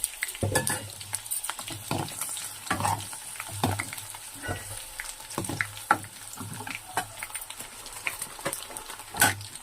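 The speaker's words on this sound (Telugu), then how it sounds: "ఇప్పుడు ఆవాలు ఎండుమిరపకాయలు వేస్తున్నాను" Mustard seeds and dried red chillies hit hot oil with garlic already frying, giving sharp popping crackles and bursts of sizzle amid stirring scrapes, irregular and close, with no voices.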